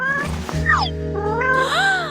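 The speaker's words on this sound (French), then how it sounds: "Oh, viens ici, mon chaton." A kitten meows several times close by, with drawn-out rising and falling cries over a low background hum.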